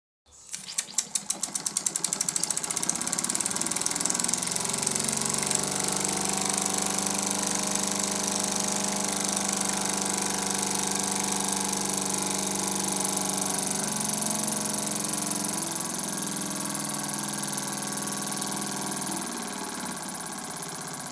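A live steam toy engine, the Super Burnac Vulcan, runs on a methylated spirits burner with original cotton wicks. A steady, fast mechanical chuffing and whirring starts abruptly, holds loud and continuous throughout, then eases slightly near the end.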